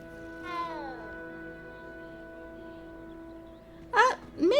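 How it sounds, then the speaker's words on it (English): A game cat in Hogwarts Legacy gives a drawn-out falling meow near the start, then two quick, sharper meows near the end, set over a soft sustained musical background. "It's a cat!"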